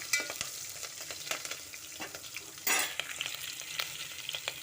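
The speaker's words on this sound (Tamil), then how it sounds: "பச்சை மிளகாய் நல்லா வறுத்து விட்டுக்கோங்க." Green chillies frying in a pan for veg pulao, a soft steady sizzle with scattered crackles and stirring scrapes, fairly quiet and close, with a brief louder spatter midway and no talk.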